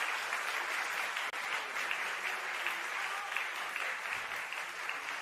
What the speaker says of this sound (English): thank you. Applause.